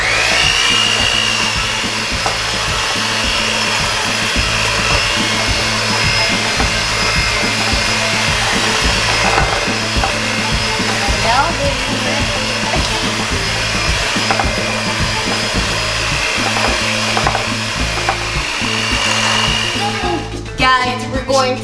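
An electric mixer whirs continuously, creaming butter and sugar for Christmas cookie dough in a home kitchen, a loud steady motor drone that runs for about twenty seconds before winding down, with faint voices beneath.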